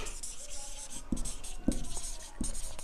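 A pen scratches a formula onto paper, a few short strokes and taps close by, with soft rubbing in between and no speech.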